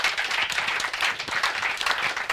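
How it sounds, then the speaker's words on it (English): Audience applause at the close of a panel discussion on competition and consumer protection, a dense, steady wash of many hands clapping throughout, fairly loud and with no talk over it. "last round of applause for our panel"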